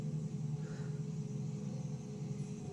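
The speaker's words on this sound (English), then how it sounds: "The car coming." A car on a road near an old bridge by a farm, a steady low rumble of engine and tyres heard fairly close and continuous through the short stretch.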